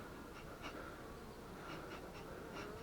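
Buckfast honeybees cluster across nine hive frames during a spring apiary inspection, giving off a faint, steady buzzing hum with a few soft, brief rises.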